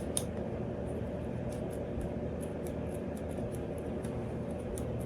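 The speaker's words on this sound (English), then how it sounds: "now my scissors getting dull" Scissors snipping through HD lace on a hair wig, a series of quiet, crisp clicks and cuts scattered across a soft indoor background hum, close but faint, with no voices.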